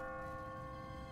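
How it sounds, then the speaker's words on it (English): An automatic church bell on a timer rings in The Walking Dead video game: one sustained, resonant bell tone hums steadily with rich overtones, moderately loud and heard on its own for the whole moment. "What kind of church bell goes off at 20 past the hour?"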